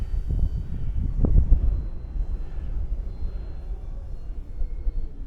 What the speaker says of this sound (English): I like flying this plane